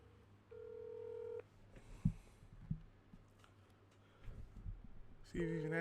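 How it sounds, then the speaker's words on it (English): A phone dialing tones to call a friend: a steady electronic tone, then a few scattered beeps, followed by a repeated ringback burst near the end, heard fairly close. "I'm about to give one of my really good friends a phone call"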